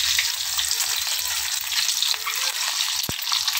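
Eggs frying in hot oil on a tawa for egg curry, a dense, close, continuous sizzle with a sharp clink near the end before it cuts out.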